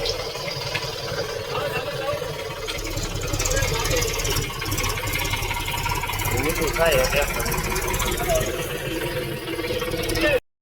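A tractor engine runs with a steady, close mid-pitched rumble that continues throughout, while people talk over it.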